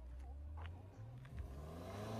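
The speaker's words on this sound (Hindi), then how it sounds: "भाई ने ड्रिफ्ट मारनी चालू कर दिया" A Mini Cooper engine revs on rising and falling pitches while drifting off-road, fairly faint and distant, with brief surges in throttle.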